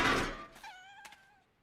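A cat in PowerWash Simulator 2 gives a single short, fairly faint meow that rises and falls. It follows a soft burst of noise and a light thunk.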